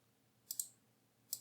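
Two crisp mouse clicks, each a quick double tap, while editing a table in Word, with near silence between them.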